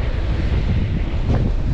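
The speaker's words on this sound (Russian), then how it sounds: "Ну, ветер, конечно, очень сильный." Strong outdoor wind buffets the microphone in a dense, loud, low rumble that roars continuously for the whole short stretch, with no speech.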